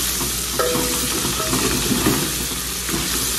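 Garlic fries in a little oil with jabá dried beef and calabresa sausage, giving a loud, close, continuous sizzle broken by stirring scrapes and clinks against the pan.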